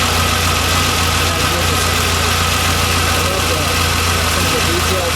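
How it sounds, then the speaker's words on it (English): A 1960 Ferrari 250 GT Cabriolet's all-aluminum V12 with three carburetors idles steadily, a loud, even low rumble with constant mechanical hum throughout. "Beautifully sounding engine."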